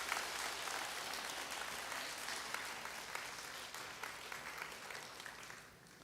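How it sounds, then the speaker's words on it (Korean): A church congregation applauds together during a Sunday worship service, steady broadband clapping sustained for several seconds and tapering slightly near the end, with no speech over it. "우리 큰 박수로 쳐주시기 바랍니다"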